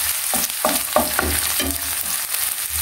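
Chili going into a hot pan with garlic, sizzling loudly and steadily, with several quick stirring scrapes breaking through the crackle.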